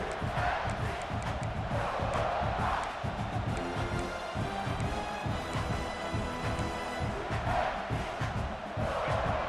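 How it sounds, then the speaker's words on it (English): A packed stadium crowd roars at full volume in the College Football 26 video game, a continuous dense wall of cheering that swells and rises steadily without letting up. "This crowd, full throat, splitting the eardrums and letting them know it's going to be a long day."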